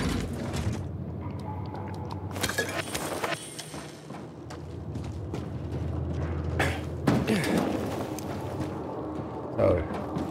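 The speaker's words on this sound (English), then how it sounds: "Wait for the elevator to come down." An elevator mechanism grinds into motion in the video game Dying Light 2, with creaking, clanking metal and ratcheting knocks over a rumbling bed. Faint voices or game sounds surface now and then.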